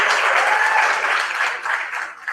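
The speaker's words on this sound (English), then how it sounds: "Give him a round of applause" An audience at an entrepreneurial awards gala applauds an honoree with a dense, steady burst of clapping that holds briefly and then tapers off.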